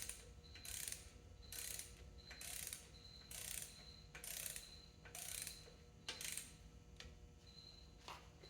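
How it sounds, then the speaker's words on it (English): Ratcheting torque wrench tightening cylinder head bolts on a 1959 Clark Clipper forklift engine during head assembly, giving repeated short bursts of rapid clicking separated by brief pauses, close and moderately quiet. "I go back and repeat that and torque it"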